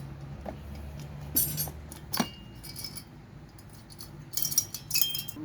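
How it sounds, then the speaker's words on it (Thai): A hammer taps a few times on the cylinder of a 5200 chainsaw with a broken crankshaft while it is being taken apart. Sharp metallic clinks come close together in small scattered clusters over a quiet background. "ค้อนเคาะเคาะนิดนึงนะครับ"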